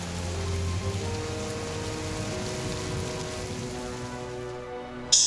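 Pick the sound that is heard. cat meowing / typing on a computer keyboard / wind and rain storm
wind and rain storm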